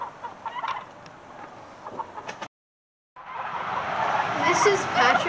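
Chickens, including a young Bardock rooster about 8 months old, clucking close by in short bursts, with a brief silent gap midway, then livelier clucking and background farmyard noise.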